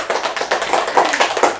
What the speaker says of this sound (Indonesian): Boleh tepuk tangan dulu untuk kedua narasumber kita.